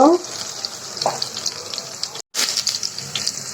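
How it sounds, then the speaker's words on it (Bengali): Chopped onions frying in a pan after fish has been lifted out, a close, steady hissing sizzle with occasional light clatter and one brief gap in the sound. "পেঁয়াজটা একটু ভেজে নিব"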